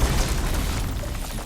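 Explosive ammo detonating in the action game Horizon Forbidden West, delivered with a splitting spike weapon technique: a loud, sustained low boom with rumbling burst texture filling the whole moment, no voices over it.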